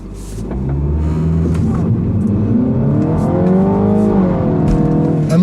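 A 2015 Mini Cooper S 4-Door Hardtop on a race track in its track setting, engine rising steadily in pitch as it accelerates through automatic shifts, loud and close with a continuous revving drone.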